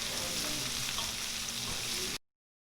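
Onions frying in a pan for egg curry, a steady close sizzle and crackle of oil running unbroken for about two seconds before cutting off abruptly.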